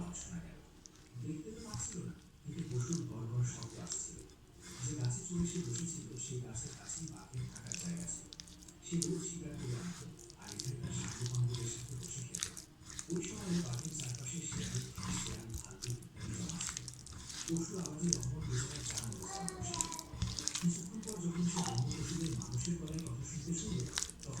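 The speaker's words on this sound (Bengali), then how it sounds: "এখন দিয়ে দেবো কর্নফ্লাওয়ার আর চালের গুঁড়া। ভালোভাবে হাত দিয়ে মিশিয়ে নেব।" Marinated chicken pieces are worked by hand with cornflour and rice flour, making soft, wet squishing and squelching sounds that repeat steadily at close range with some quiet background noise.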